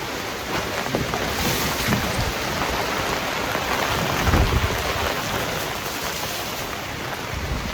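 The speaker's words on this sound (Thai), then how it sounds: "พายุไม่เคยเจออะไรแบบนี้เลยนะครับ" Heavy storm rain pours down in a dense, constant roar with wind gusting over it, loud and close, with a brief swell midway and no talk.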